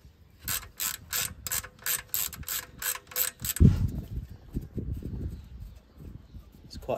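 A hand ratchet works on the oil sump bolts of a Ford with the gearbox removed, its rapid, even clicks repeating loudly for several seconds, then giving way to duller metallic knocks and handling noise.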